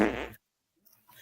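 A short, loud, raspy fart sound plays as part of a sound-guessing game, cut off abruptly, then a faint bit of rustle follows after a pause.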